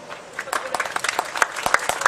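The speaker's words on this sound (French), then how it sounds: "Allez, applaudissements Christophe Sleur," Roadside spectators at a cycling time-trial start clap in a brief scattered patter while a voice talks over them, the claps rising slightly toward the end.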